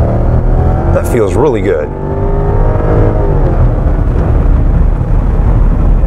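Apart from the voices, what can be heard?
2007 Lexus LS460 LWB engine accelerating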